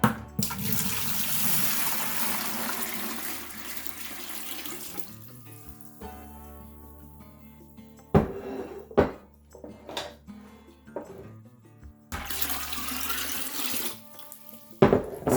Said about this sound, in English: And I'm going to pour in 8 quarts of water.